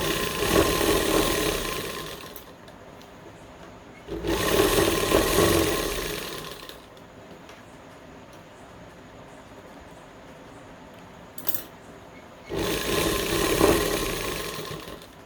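Sewing machine stitching a salwar in three loud bursts of rapid whirring, separated by quieter pauses with a brief tap.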